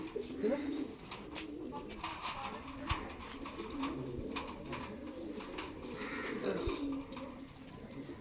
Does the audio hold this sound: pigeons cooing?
yes